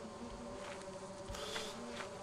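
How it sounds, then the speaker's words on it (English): Bees buzz around a hive in the modded video game Lethal Company, a thin, steady insect drone with a few louder passes, heard alone at moderate volume without speech. "Oh, I see bees. How close can I get to the bees?"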